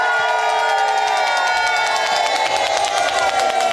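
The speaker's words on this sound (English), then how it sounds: "I'm here at Blessed Angels Community Center, and I'm here with a crowd" Hundreds of seniors at a community center cheer loudly after a bingo game, a dense, continuous roar of whoops and shouts that holds steady throughout.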